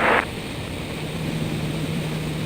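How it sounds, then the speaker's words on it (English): A propeller airplane takes off from runway 31 right on an aerobatic ride, heard as a steady, loud engine drone with a constant hum and broad wind-like roar. "runway 31 right, clear for takeoff"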